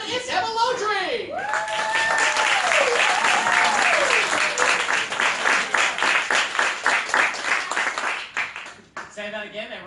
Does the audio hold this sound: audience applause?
yes